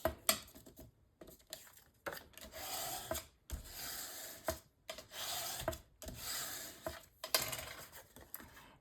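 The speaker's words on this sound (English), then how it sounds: "And then I am going to burnish this down with my bone folder." A bone folder rubs paper down onto a mini album cover in short, quiet burnishing strokes with irregular pauses, heard close with no talking.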